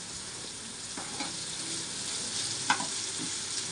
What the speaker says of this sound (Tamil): பாருங்கள், போட்டுக்கிறோம். ஃப்ரை ஆகிடுது.